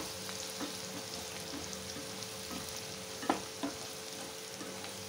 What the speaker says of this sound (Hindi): कांदे का कलर चेंज होने तक हम कांदे को फ्राई करते रहेंगे।